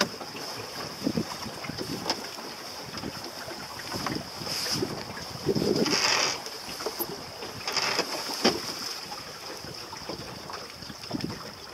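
A sailboat heading up into the wind, with steady wind rush and water sloshing against the hull, a constant high hiss over low splashes and brief louder gusts, close and without talk.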